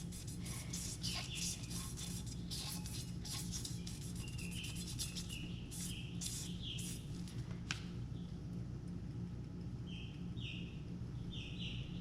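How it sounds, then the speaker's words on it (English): A fingertip rubs sprinkled powder into the surface of a tumbler, giving a steady close dry rubbing and scuffing that runs without a break, with brief high squeaks now and then. "I'm actually gonna use my finger to rub this in"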